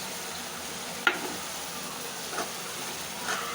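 Food sautéing in a pan with chili powder to be added next, a steady close sizzle broken by three sharp utensil clinks against the pan, spaced about a second apart.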